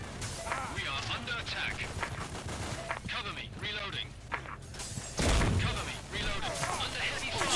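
Gunfire in the shooter game Special Force 2, with bursts of rapid shots and a heavy blast mixed into busy game noise while a voice talks over it.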